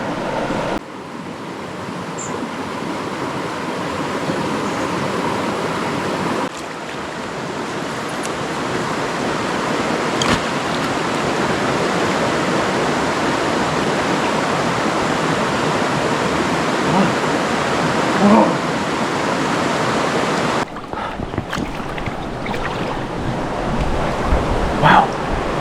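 River water flowing where two rivers meet along the Genal river trail, a steady broad rush of current that is close and continuous, with faint voices now and then.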